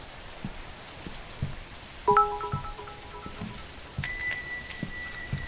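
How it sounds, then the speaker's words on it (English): Steady rain hiss fills a horror video game scene, a constant even wash broken by a few brief chiming game tones partway through. "With this rain, I don't think we'll have any more customers today."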